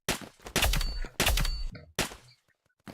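A gun fires in a Unity-made video game: three loud, rapid bursts of gunshots separated by brief gaps, with faint trailing tones after.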